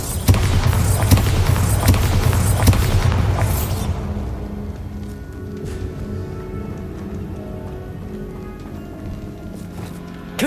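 A Bombarda spell goes off in Hogwarts Legacy with loud booming blasts and a rumbling burst at the start, then fades to a quieter rumble and scattered game effects.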